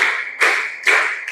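Three crisp hand claps at an even pace, close and clear, forming a rhythmic classroom clap pattern, without speech.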